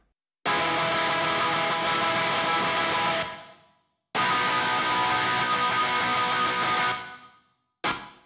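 Sustained, dense distorted guitar chords in a pop-punk mix ring out twice for about three seconds each, tails decaying with and without Chromaverb reverb, ending on a brief third hit.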